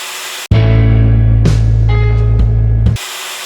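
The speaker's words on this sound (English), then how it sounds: "use the bandsaw here to take off all the excess material" Bandsaw cutting excess material off a knife blank: the motor kicks in abruptly with a loud, steady hum and a rasping blade tone that runs for about two and a half seconds, then cuts off sharply.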